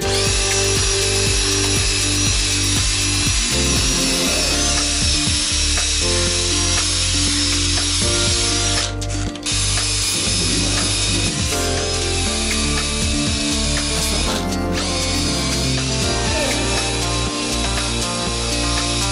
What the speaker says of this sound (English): I'm going to go ahead and use a grinding disc and grind that down